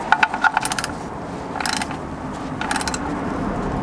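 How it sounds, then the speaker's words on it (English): Wrench tightening the oil drain bolt on an F-series BMW: quick metallic ratcheting clicks in short bursts separated by pauses, close and fairly loud over a low background rumble. "Right now I'm just using a regular wrench until I can't really go anymore."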